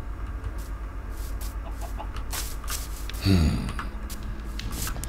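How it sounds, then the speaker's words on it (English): Chickens in the block-building game Minecraft give a short burst of clucking partway through, close and fairly loud over a steady background of game ambience and rain. "Oh my gosh, chicken."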